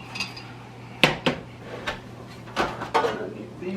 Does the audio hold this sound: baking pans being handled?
yes